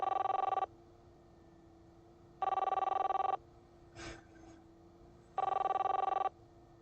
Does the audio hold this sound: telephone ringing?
yes